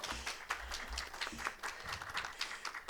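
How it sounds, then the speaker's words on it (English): Applause from a conference audience at a higher-education technology summit, a faint, even patter of many hands clapping for a few seconds with no talk over it. "Round of applause for our board."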